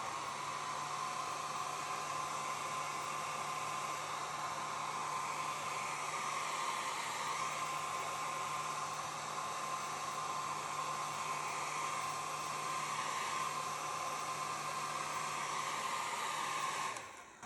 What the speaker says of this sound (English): you can hit it with a hairdryer like this.